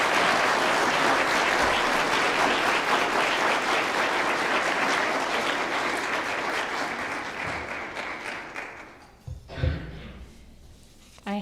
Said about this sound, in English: I would like for everyone to give all of these people a big round of applause for all the hard work they do.